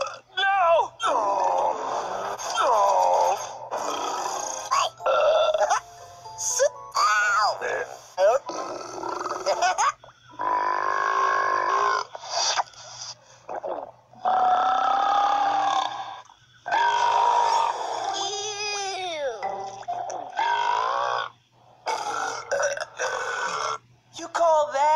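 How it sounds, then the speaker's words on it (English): Cartoon dinosaurs let out a run of long, loud, rumbling burps and groans one after another, with voices speaking and shouting between them. "You call that a burp?"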